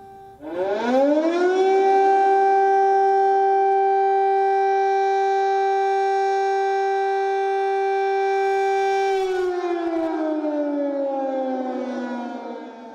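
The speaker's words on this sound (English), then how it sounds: "Last night, Kiev stayed awake to the sound of sirens." An air raid siren in Kyiv, Ukraine, during an attack winds up into a loud, steady wail that holds for several seconds before slowly winding down.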